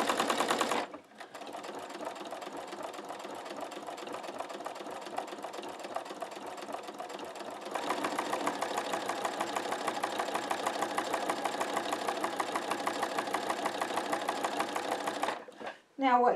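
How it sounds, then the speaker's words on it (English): A sewing machine stitching chenille, a steady close mechanical whir with fast regular needle beats that briefly stops near the start, then runs on slightly louder until a pause at the end, with talking over it. "I'm going to start stitching"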